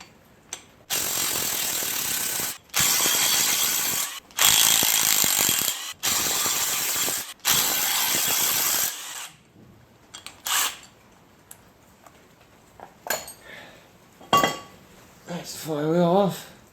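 A ratchet removes the flywheel bolts on a Mazda Miata in five quick, loud, close bursts of clicking, followed by a few lighter metallic clinks and brief talking.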